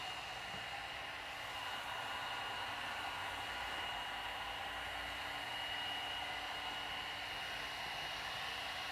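Steady, even hiss of a heat gun blowing hot air close by while vinyl wrap is warmed on a Tesla Model 3 hood, unbroken and constant with no talking.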